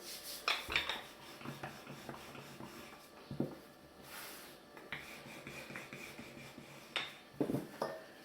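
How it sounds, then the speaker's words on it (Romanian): Metal cookware clanks and scrapes on a stovetop in a home kitchen as a frying pan is set down to heat for frying filled flatbreads, with scattered close knocks and rubbing sounds and no talk. "Am pus și cratița în care le prăjim"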